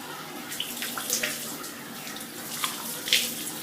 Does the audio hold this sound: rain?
no